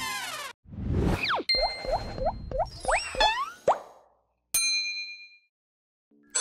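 A magic toy phone rings out as a loud, cartoonish burst of rising whistles, bouncy boings, bright dings and a sharp clang, followed by a pause and a final ringing chime.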